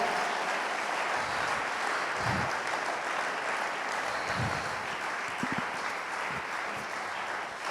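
A church congregation applauding to acclaim God during a French-language sermon: sustained, even clapping from a large crowd fills the room throughout, with a few faint shouts and thumps mixed in.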